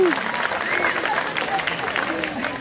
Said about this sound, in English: join me again in giving these amazing students another round of applause